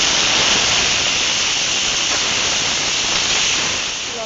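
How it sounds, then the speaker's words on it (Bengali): Broccoli fries in hot oil in a kadai, giving a loud, continuous crackling hiss that stays steady and fades slightly at the end, with no voices. "তেল গরম হয়ে গেছে। একে একে ব্রকলিগুলো দিয়ে দিচ্ছি।"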